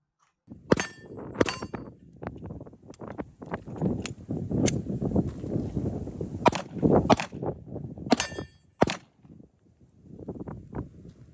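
An HK P30 pistol fires a string of sharp, loud individual shots with irregular gaps, including a stoppage from a jam, over continuous rumbling background noise.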